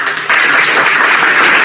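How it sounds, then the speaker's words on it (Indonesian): A church congregation applauding during a Sunday worship service, a dense wash of many hands clapping together that swells after a brief dip, loud and steady with no voices. "Tepuk tangan lagi."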